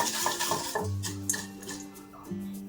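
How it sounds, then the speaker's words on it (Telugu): A spoon stirs jaggery in a bowl to melt it for a cake batter, giving repeated scraping and clinking strokes at close range over a steady faint tonal hum. "ఈ బెల్లాన్ని మనం ఇందులో వేసుకొని బాగా కలుపుకోవాలి"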